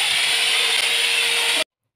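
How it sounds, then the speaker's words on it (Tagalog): An electric grinder whines loud and close as it smooths the wood of a homemade potholder loom, holding one steady high pitch for about a second and a half before cutting off abruptly into silence. "Pakinggan nyo pala muna kung gaano kaingay yung grinder ko"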